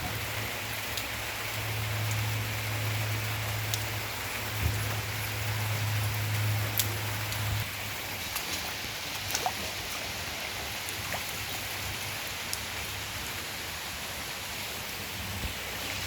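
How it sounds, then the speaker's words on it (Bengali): Steady rain falls continuously in an even, soft hiss, with occasional louder drips and a low hum in the background. "ঘুম থেকে উঠে দেখতেছি বৃষ্টি হচ্ছে কন্টিনিউয়াসলি বৃষ্টি"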